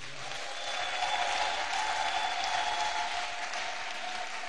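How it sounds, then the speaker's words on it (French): Church congregation applauding together, a steady dense clapping that holds at an even level throughout with no speech over it. "Acclamons les dieux de Marie."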